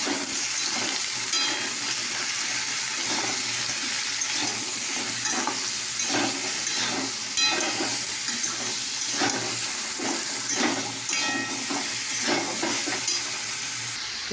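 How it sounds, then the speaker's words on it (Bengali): Food seasoned with turmeric and salt fries in a pan under continuous stirring, with a steady sizzle and repeated scraping strokes throughout. "এবার নাড়াচাড়া করব"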